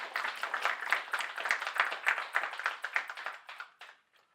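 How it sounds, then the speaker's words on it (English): Audience applause at a Veterans Day ceremony, a steady run of hand claps that carries evenly for about four seconds and then thins out and stops. "I saw some of you about ready to applaud"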